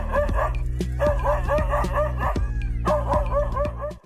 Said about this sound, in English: it unleashes a barrage of loud barks